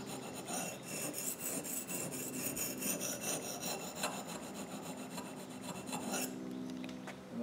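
A garden clipper blade is sharpened on a stone in quick, repeated rasping strokes, an even scraping rhythm close up, which stops briefly near the end.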